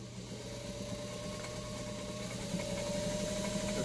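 A White 305 vintage sewing machine runs continuously while stitching a zigzag pattern, a steady close mechanical hum and rapid needle clatter with a faint motor whine, growing slightly louder toward the end.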